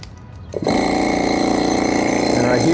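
A VEVOR pond aerator air pump kicks on abruptly after a quiet moment, then runs with a loud, steady buzzing hum and a fast rhythmic vibration close by.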